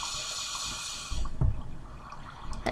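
Flowing water in Minecraft, a steady wash of broadband noise with low gurgling bursts and a few brief splashy spikes near the end, moderately quiet and with no talk.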